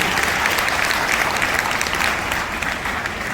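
A crowd claps steadily and loudly throughout, a dense wash of applause with no break.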